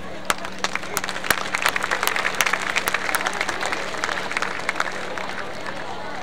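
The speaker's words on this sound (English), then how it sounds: "One more round of applause" A crowd at a school pep fest claps in a patter of many hands that builds to a steady roar and then thins, heard from within a large room.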